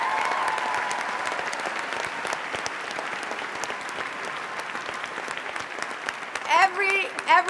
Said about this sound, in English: So I want you to give them another round of applause.